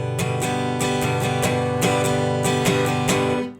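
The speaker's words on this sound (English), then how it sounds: "If I attack the string too viciously, it's going to sound like this." Acoustic guitar strummed with a hard, aggressive attack, producing a steady run of bright, sharp strums with pronounced pick noise, played close and alone.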